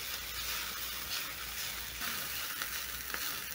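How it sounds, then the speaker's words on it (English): Onions sizzle steadily in the oil left from shallow-frying smoky sausages, a constant bright frying hiss with occasional soft scrapes of stirring throughout. "Stir in the onion. I'm using the same oil that I used to shallow fry my Smokies"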